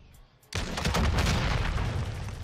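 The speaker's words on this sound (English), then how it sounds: "Something blew up." A loud, sudden blast erupts in the Modern Warfare shooter, followed by a sustained roar of rumbling gunfire and debris noise that stays dense and close for the rest of the moment, with no talk over it.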